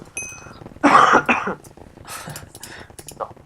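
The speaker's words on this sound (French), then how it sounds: "je vais tousser un peu" A French-speaking gamer coughs close to the microphone in a few rough, throaty bursts, one strong hack followed by smaller coughs and throat-clearing, with light background noise.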